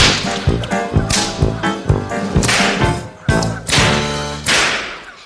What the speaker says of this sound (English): Then he took the whip and gave the king lessons in whip cracking.